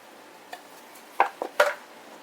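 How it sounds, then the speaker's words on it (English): A fork mashing and mixing buffalo chicken filling with Frank's Red Hot in a bowl: a few soft, brief scraping clicks and taps, quiet and sparse, with near silence between them. "Take a fork and just mash it and mix everything together."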